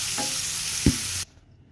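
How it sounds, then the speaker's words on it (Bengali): Chicken pieces fry with garlic in a pan, a steady sizzle running under a single sharp stir scrape before the sound cuts off abruptly. "চিকেনটা রসুনের সাথে ভালো করে নাড়িয়ে চাড়িয়ে ভেজে নিয়ে"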